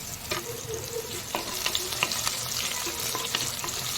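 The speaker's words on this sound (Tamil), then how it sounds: "இப்போ நம்ம வெங்காயம் வணங்குறதுக்கு கொஞ்சமாக சால்ட் சேர்த்துக்கலாம்." Onions with a little salt sautéing in a pan for a yam tamarind curry, a crackling sizzle punctuated by several quick scraping stirs, close and moderately loud with no speech.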